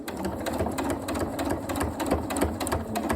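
A sewing machine back stitches a ghostly cushion, a short close, continuous mechanical whir with rhythmic needle chatter and no voices.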